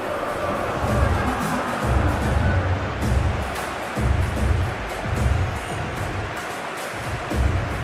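Stadium crowd noise from a football video game, a France versus Spain World Cup semi-final simulation on a clear evening before a capacity crowd, as a steady loud roar that swells in repeated waves.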